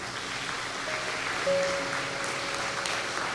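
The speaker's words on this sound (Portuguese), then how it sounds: "Vamos aplaudir Jesus" Congregation applauding in a church service, a steady wash of clapping with a faint sustained tone running through the middle, no voices.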